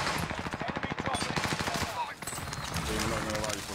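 Rapid bursts of video game gunfire rattle in quick succession, with a steady automatic stream in the first half followed by scattered shots under game voices and effects.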